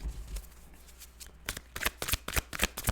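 Fairy oracle card deck being shuffled by hand. The sound is a series of crisp, riffling card slaps, sparse at first and then quicker and sharper toward the end, close up and fairly quiet.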